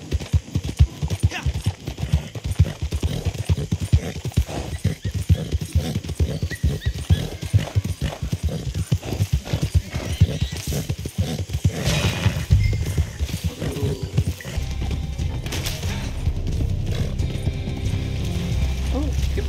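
Horse hooves clip-clop steadily in a quick, regular rhythm while riding through country terrain, close and fairly loud, with some mechanical rattling mixed in.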